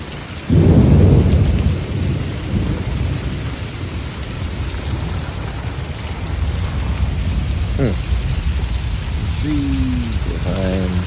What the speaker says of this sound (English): it started pouring down rain